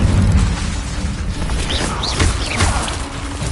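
A Confringo blasting spell going off in Hogwarts Legacy, a loud, dense explosive rumble with bursts and crackling, heavy low-end boom throughout the short burst.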